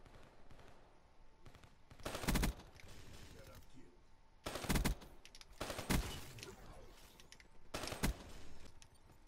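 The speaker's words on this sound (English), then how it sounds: "There was a Vesper shooting at me, and here comes a shotgun to destroy my day." Gunfire in the Black Ops video game during a Team Deathmatch round, with several loud bursts and single shots and quieter firing between them; a voice talks under parts of it.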